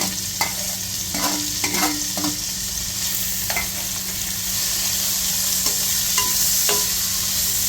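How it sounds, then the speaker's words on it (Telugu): Green chillies, onion, mint and carrot fry in ghee for egg biryani, a steady close sizzle broken by repeated stirring scrapes and clinks of a spoon in the pan. "ఈ ఉల్లిపాయ ముక్కలు, క్యారెట్ బాగా వేగేంత వరకు ఫ్రై చేసుకోవాలి."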